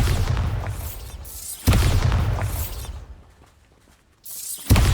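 Bombarda spell blasts hit pumpkins in the Hogwarts Legacy video game: two sharp explosive booms with shattering debris, each trailing off into a fading rumble, the second after a short quiet gap.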